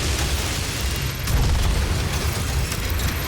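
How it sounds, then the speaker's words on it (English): Rocket launcher explosions in the video game Doom, a dense continuous rumble of booming blasts with no clear gaps, loud and close, without talking. "Okay, now we have to switch back to rockets."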